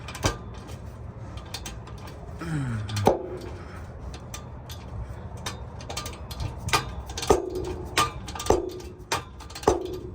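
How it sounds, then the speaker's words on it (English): A ratchet loosening the catalytic converter bolts on a 2013-2017 Honda Accord, with sparse clicks and short metallic bursts at close range and faint workshop noise between them. "I'm gonna get these bolts off the rest of the way"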